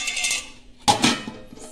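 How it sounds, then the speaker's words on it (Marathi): A metal lid set down on a pot of fish curry, a soft scrape followed by one sharp clanging knock and a brief ringing clink, close and alone. "ह्याच्यात झाकण ठेवायचं आहे"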